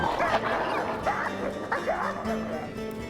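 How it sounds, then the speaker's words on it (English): A wolf in the Wildfire Pack video game growls and snarls in rough bursts over a constant busy game soundscape, the throaty rumbles rising and falling across the moment. "try and do a little bit of growling here as well"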